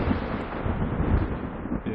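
Lightning strike with rolling thunder from a CryEngine V game engine effect, a loud, dense rumbling roar with a deep low boom that holds steady for about two seconds.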